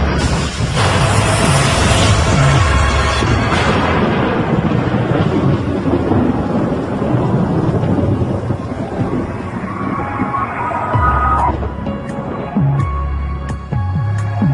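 A violent thunderstorm over the southern United States, heavy rain roaring steadily with deep rolling thunder booming through it, loud and close, swelling and easing across the whole stretch.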